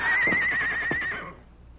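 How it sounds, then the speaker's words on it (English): A horse whinnies loudly and close, a shrill wavering neigh lasting about a second before fading out, with a soft thud or two beneath it. "Whose horse was that I just heard?"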